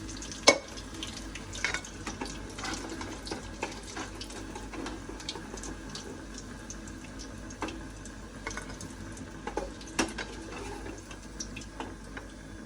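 Chicken pieces frying in hot oil, a continuous sizzle and bubble with occasional sharp clinks and stirring scrapes scattered throughout, close and steady with no talking.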